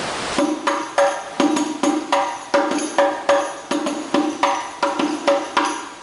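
A hadroh frame drum plays the rising pukulan naikkan pattern, a steady run of sharp, close hand strikes with ringing decay, accented beats recurring roughly every half second, with no voices.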